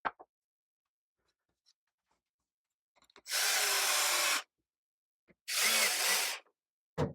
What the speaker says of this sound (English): Put the screws back in, put the screws to it.